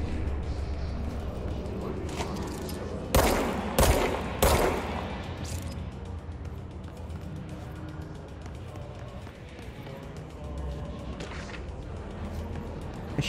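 Bursts of machine gun fire in the action game Control, three loud volleys close together, then continuous gameplay noise and a voice talking underneath.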